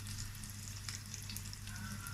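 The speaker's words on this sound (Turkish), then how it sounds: "Biberlerimiz biraz kızardı." Peppers fry in a pan with a steady, soft sizzle and occasional crackles, close up and continuous with no one talking over it.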